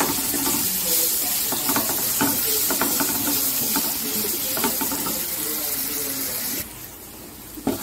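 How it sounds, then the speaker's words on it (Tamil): Ground garlic paste frying in oil in a nonstick pan for garlic pickle, a continuous crackling sizzle with repeated stirring scrapes and taps, cutting off abruptly near the end. "இந்த அரைச்ச விழுது இதை வந்து போட்டு இந்த பச்சை வாசனை போகிறதுக்கு இதுவும் கொஞ்சம் நேரம் ஃப்ரை பண்ணணும்"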